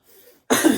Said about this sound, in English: Excuse me for coughing, sorry.